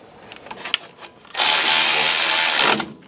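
Power tool tightening front brake parts on a 1997 Ford Ranger, a loud continuous whirring burst of about a second and a half after quiet clicks and handling noises.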